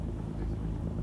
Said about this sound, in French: Le vent qui s'est levé oblige à rentrer vers l'île.